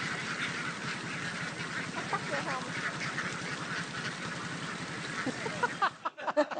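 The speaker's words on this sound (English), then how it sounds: "that's a lot of ducks. That is a great deal of ducks." A large flock of ducks quacks and honks in a dense, continuous chorus, loud and close, with a brief burst of other noise near the end.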